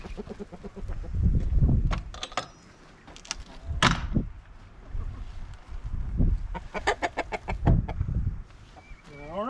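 Hens cluck and squawk in bursts close by at a new feeder, with low rustling and thumping noises between the calls.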